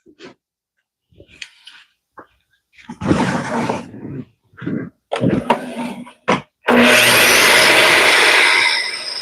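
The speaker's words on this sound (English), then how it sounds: "So over to the miter saw. First thing we want to do is do a square cut on one end." Miter saw making a square cut on one end of a wooden door board, heard as a loud sustained cutting roar near the end after scattered knocks, breaths and handling noises.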